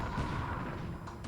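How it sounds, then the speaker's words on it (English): Naval shell hits in the War in the Pacific strategy game, with a battleship taking fire during an invasion: a dense, rumbling boom that fills the short clip, followed by a couple of fainter thuds near the end. "The battleship take a shell hit, but it will have not really a big impact."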